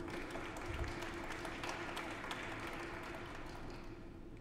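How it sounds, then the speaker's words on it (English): Faint, distant applause from a conference audience welcoming a panelist at a discussion on Africa's digital space and geopolitics, a soft, continuous wash of many hands under room hum. "A round of applause, please"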